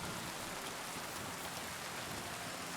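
Steady hiss of rain falling in the medieval open world of Kingdom Come Deliverance 2, an even, soft wash of drops with no thunder or voices, continuous from start to end.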